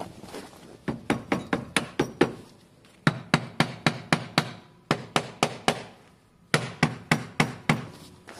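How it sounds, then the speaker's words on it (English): A small hammer taps on a Vespa scooter during a belt change, quick bursts of sharp, ringing strikes, four groups of about six to eight hits separated by short pauses, close up. "Just get a small hammer out and"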